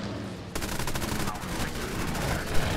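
Machine guns on a C.202 Folgore fighter plane in War Thunder rattle off a fast, continuous burst, close and loud, starting abruptly and holding a steady rapid-fire chatter over engine drone.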